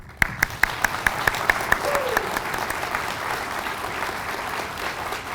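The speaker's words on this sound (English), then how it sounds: "Join me in offering a final round of applause for this incredible group of individuals." Applause at an alumni awards ceremony for the award recipients begins with a few sharp individual claps, then swells into a broad, steady wash of crowd clapping in a large room.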